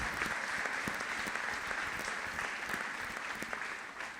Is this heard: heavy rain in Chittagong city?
no